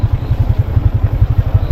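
A motorcycle labors over a rough, rocky road, its engine thumping in a loud, fast, uneven pulse close to the listener.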